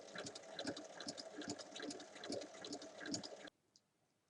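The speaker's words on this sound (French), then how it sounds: "Ensuite, je vais venir faire une surpiqûre" A sewing machine runs a steady, rapid needle rhythm while topstitching along a fabric bag seam, fairly close, then stops abruptly with a faint click afterward.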